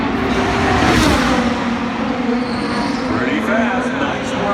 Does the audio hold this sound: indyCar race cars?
yes